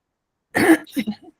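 A single person coughs once harshly, then clears their throat in a couple of short rasping bursts, close and otherwise quiet.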